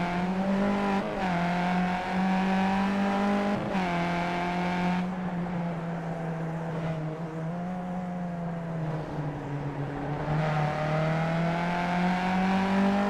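Race cars in the Skip Barber 2K World Cup racing game heard on board descending the mountain at Bathurst, a steady loud engine drone with shifting pitch and brief gear-change dips, continuous throughout with no talk.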